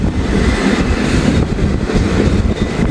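A long train rumbles steadily past up close, a continuous loud low roar of wheels and rail cars with faint clickety-clack running throughout and no pause.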